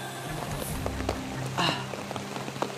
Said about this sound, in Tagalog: Bakit lumalaki ng ulan?